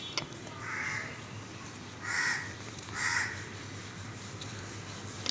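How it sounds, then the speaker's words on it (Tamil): Crow cawing from a neem tree, three loud harsh caws at roughly one-second intervals over steady outdoor background hiss. "காக்கா கத்துதேன்னு பார்த்தேன்"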